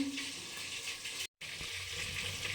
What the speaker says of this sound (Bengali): কড়াতে সর্ষে তেল দিয়ে দিয়েছি এবারে যে সিমটা বেটে রেখেছি তা আস্তে আস্তে করে দিয়ে দেবো